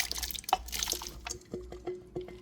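Starchy water is dumped from a bowl of freshly cut shoestring potatoes, heard as a brief splash and pour followed by a few scattered drips and trickles, close and fairly quiet.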